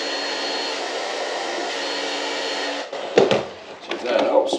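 A heat gun warms a cut piece of hose during a DIY ballast upgrade, a steady close airy whir that stops partway through, followed by handling knocks and rustles as the hose is worked into place.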